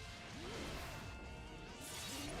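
Glass-shattering crash effect from the Guilty Gear fighting game, a loud sustained smash with whooshing layers filling the short moment over game audio.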